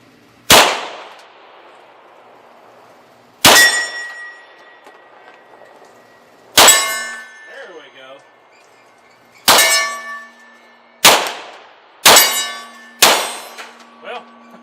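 A 40 S&W pistol, an XDM, fires about seven shots at 20 yards, each crack followed by a ringing clang of steel targets, spaced a few seconds apart with two quicker pairs near the end, loud and close.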